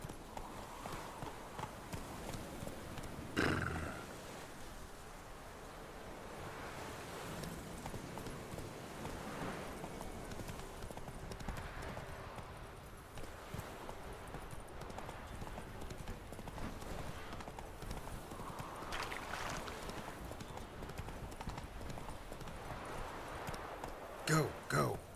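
Horse hooves clip-clop steadily in The Witcher 3 as the mount runs, a continuous galloping rhythm at moderate level, with a voice speaking over it at times and a few louder thumps near the start and end.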